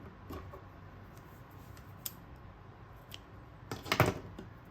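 Scissors snip yarn while a friendship bracelet is made, giving a few faint, brief cuts and clicks at a close distance, with the strongest snip near the end and no talking.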